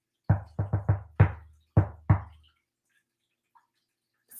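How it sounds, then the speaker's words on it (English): Knuckles rapping on a door in a friendly pattern, seven crisp close knocks in quick uneven groups, then silence. "So you do the friendly knock again."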